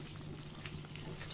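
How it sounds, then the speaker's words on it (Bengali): Fried eggs being sautéed with spices for egg korma give off a faint, steady sizzle with soft stirring scrapes throughout. "ডিমগুলো দিয়ে ভালো করে মশলার সাথে কষিয়ে নিব।"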